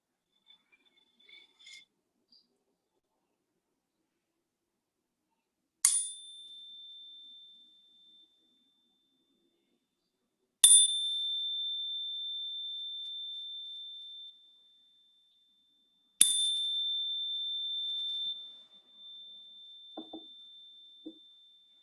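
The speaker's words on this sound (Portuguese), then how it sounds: "Eu vou tocar o sino 3 vezes para a gente começar." A meditation bell struck three times at the start of a practice session, each ring a clear sustained tone fading slowly, spaced about five seconds apart in a quiet room with faint handling sounds before and after.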